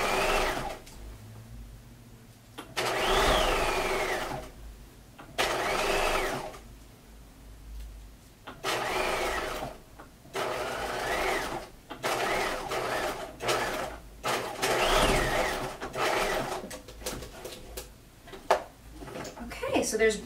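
A sewing machine stitches a bulky picnic skirt with pivots, running in repeated whirring bursts of a few seconds each with short pauses between them.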